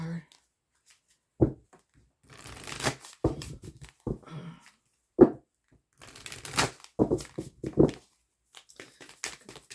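Cards are pulled and shuffled from a deck in crisp, scattered bursts of riffling and snapping, separated by short quiet gaps, with a voice occasionally heard between them.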